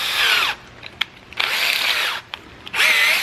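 A power drill with a step bit enlarges a hole in a Toyota Tacoma truck bed, three loud, close, high whining bursts of drilling separated by short pauses and small clicks, with no talk.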